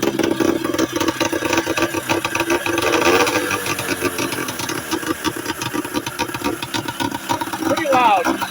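A 1976 Ski-Doo Olympique snowmobile fitted with a 377 engine is pull-started and runs, giving a loud, steady, rattling drone up close that keeps going without a break.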